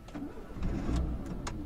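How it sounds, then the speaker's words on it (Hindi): A Tata Indica Vista 1200 cc petrol/CNG car's engine cranks and catches from inside the cabin, a low rumbling turnover with brief rising bursts, heard close and moderately loud. "अभी गाड़ी स्टार्ट कर रहा हूँ मैं अभी,"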